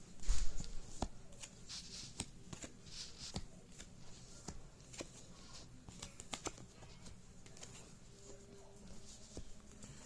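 A tarot card deck is shuffled by hand at close range, with soft riffling and repeated sharp card snaps and taps in irregular bursts against a quiet room background, no talking.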